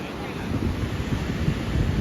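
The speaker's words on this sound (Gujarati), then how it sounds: "દરિયાનો નજારો બતાવ્યો તમને" Sea surf breaks along the shore at Somnath, a continuous low rushing roar heavily mixed with blustery wind buffeting the microphone, steady and fairly loud.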